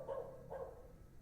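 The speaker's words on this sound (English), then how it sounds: "Background doggo barking noises?" Faint dog barks from the video game The Excavation of Hob's Barrow, two soft woofs in quick succession heard in the background.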